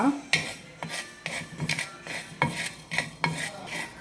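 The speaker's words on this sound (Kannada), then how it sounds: "ಇದೇ ಪ್ಯಾನ್ಗೆ ಒಂದು 1/4 ಚಮಚ ಮೆಂತ್ಯ, ಅದನ್ನು ಸಪ್ರೇಟಾಗಿ ಫ್ರೈ ಮಾಡುವ." A quarter spoon of fenugreek seeds is fried on its own in a pan, heard as close, rhythmic scraping and stirring strokes of a utensil against the metal, with a light sizzle beneath and no talk.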